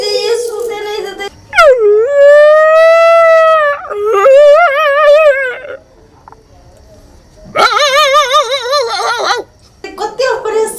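Dogs howl in long rising and wavering cries, two sustained bursts with a break between, loud and close with broken vocal sounds around them.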